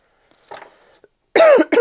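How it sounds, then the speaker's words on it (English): A woman coughs twice, two sharp, close bursts following a softer throat sound, with no talk around them. "First cough of the day."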